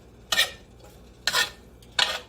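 Beef skirt steak and broccoli are stirred in a pan for a stir fry, three distinct scraping sweeps of the utensil against the pan, evenly spaced and close, with no talking over them.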